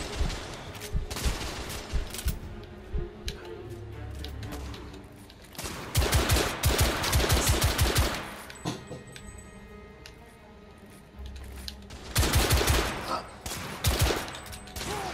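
Bursts of gunfire from the video game The Order: 1886 come in dense rapid volleys, loud and close, separated by quieter gaps with background ambience.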